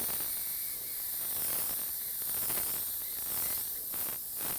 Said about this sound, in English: Spray air on it.